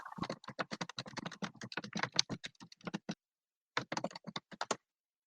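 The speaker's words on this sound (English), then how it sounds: "That's the clackiest keyboard I've ever heard." A very clacky computer keyboard typed in quick, dense bursts of sharp clicks, pausing briefly before another short flurry, close and alone with no voices.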